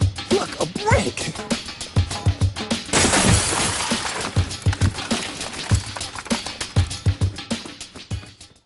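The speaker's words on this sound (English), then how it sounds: "He smashed the window with a brick." Car window glass smashed with a brick, a burst of crashing, shattering noise amid a series of sharp knocks and thuds, mixed under lively conversation.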